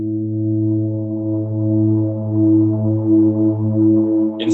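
A sustained tone tuned down to 432 Hz holds steady and rich in harmonics for several seconds, heard alone with no other sound.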